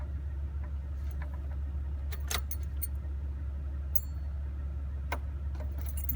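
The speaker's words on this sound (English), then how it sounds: "You take the key, put it in the ignition." A car key jingles on its ring and clicks into the ignition of a car fitted with a Pioneer Mixtrax FH-X720BT stereo, with several sharp metallic ticks over a steady low hum, close up and with no talk.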